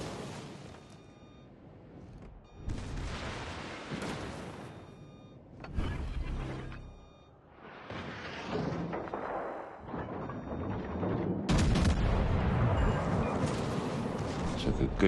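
The Kongo battleship's secondary guns fire in World of Warships Legends, a series of heavy booming bursts and thuds separated by short gaps. The barrage grows louder and denser toward the end, and a voice talks over the gunfire.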